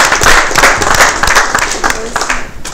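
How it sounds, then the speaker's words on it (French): A studio audience on a Saturday entertainment show applauds, with dense clapping from many hands, loud and close, swelling and easing slightly over a few seconds as a voice speaks over it. "on applaudit pour l'OCRE"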